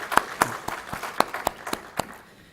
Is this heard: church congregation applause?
yes